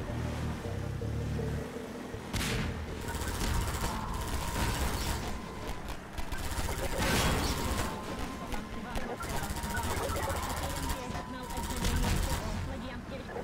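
A gun fires in the Half-Life 2 VR video game, with several loud bursts of shots at irregular intervals standing out from a constant bed of game noise and ambience.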